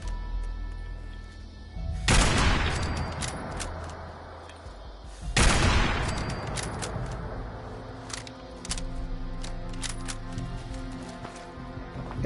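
Gunfire in Fallout 76: two loud, sharp blasts about three seconds apart, each trailing off in a long echoing tail, followed by scattered fainter shots and clicks over a low ambient hum, no talk.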